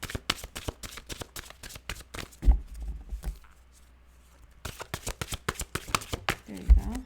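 Tarot cards are shuffled in rapid bursts of crisp riffling flutters, with a quiet pause in the middle before the shuffling resumes, close up and clear.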